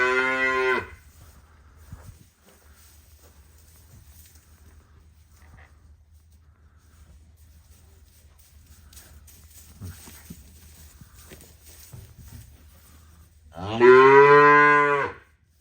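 A Simmental bull on a livestock farm gives two loud, close moos, one at the start and one near the end. Quiet farmyard background fills the gap between them.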